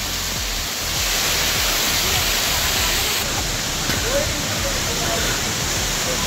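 Steady, dense rush of water close by at a waterfall near Darjeeling, a continuous broadband roar with low rumble that swells slightly after the first second and holds level throughout.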